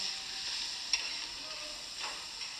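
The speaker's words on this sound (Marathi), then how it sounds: "आपण हे मस्त शेंगदाण्याचं कूट आणि मिरची चांगली तळून घेऊता" Crushed peanuts and chillies fry on a hot pan with a soft, even sizzle, broken by a couple of quick stirring scrapes; no voices.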